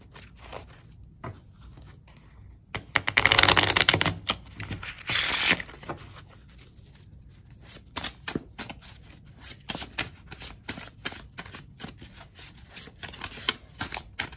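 Cards from a card-stock mini deck being shuffled and handled up close, with a louder riffle burst followed by lighter clicks and flicks of the stock, quiet overall.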